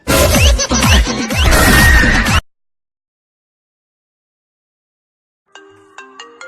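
A loud burst of music cuts off into silence, then a phone ringtone starts faintly, a short repeating electronic melody.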